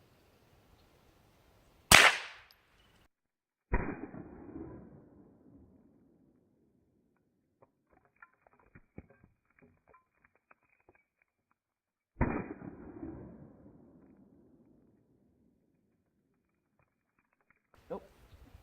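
Sharp .22 LR rifle shots fired at a cinder block outdoors, three loud cracks spaced several seconds apart followed by a fainter fourth, each with a short rumbling tail, plus a few soft clicks between.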